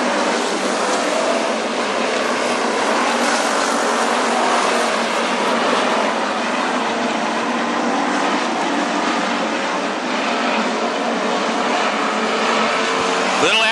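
WISSOTA street stock race cars roar continuously around Princeton Speedway, a loud, dense wall of engine noise from the pack racing lap after lap, with an announcer's voice running over it.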